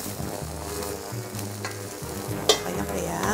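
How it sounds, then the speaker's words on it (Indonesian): Garlic and onion sauté in hot olive oil for mushroom soup, a dense, close sizzle with stirring scrapes and a brief clatter midway. "Setelah panas kita masukin garlic, bawang bombay"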